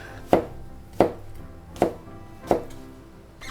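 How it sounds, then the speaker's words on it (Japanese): A knife thinly slices mushroom stems on a cutting board: four sharp, evenly spaced cuts land against the board, close and distinct, with no talking. "軸も食べれるのでこっちも薄切りにしておきます。"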